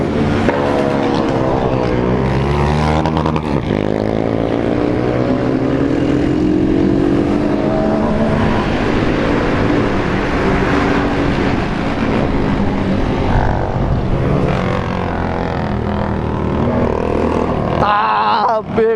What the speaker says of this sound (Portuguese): Olha o tanto de moto